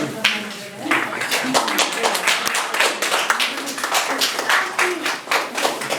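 Audience applause at a book launch ceremony in Pokhara, a steady patter of many hands clapping throughout, with a voice speaking faintly underneath.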